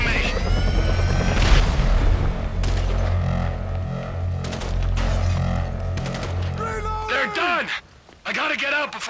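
A helicopter in the Grand Theft Auto V video game thunders loudly and steadily close by, its rotor drone mixed with booms and bursts of gunfire, then briefly cuts out before resuming.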